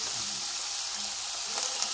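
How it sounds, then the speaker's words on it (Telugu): Tomatoes hit a hot pan for a masala-free curry, frying with a steady, close sizzling hiss that runs without a break for the whole moment. "ఇప్పుడు టమాటాలు యాడ్ చేస్తున్నానండి"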